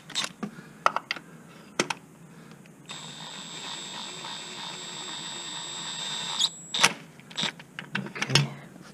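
Ratchet turning a 5/8 socket during a Honda Accord tune-up, giving sparse clicks and a steadier stretch of ratcheting amid clatter, close and fairly quiet.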